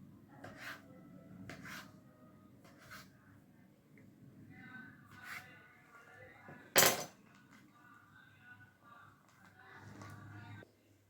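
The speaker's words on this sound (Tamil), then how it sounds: "இது உங்களுக்கு என்ன சைஸ் வேணுமோ அந்த சைஸ்க்கு குட்டி குட்டி பீஸாக கட் பண்ணி எடுத்துக்கோங்க" Wheat biscuit dough is cut into small pieces with a knife, giving soft, scattered scraping taps against a board and one sharp clink partway through, quiet and close with no speech.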